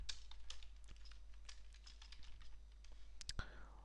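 Keys on a computer keyboard are tapped in a steady run of light clicks at a moderate pace, faint and close over a constant low electrical hum.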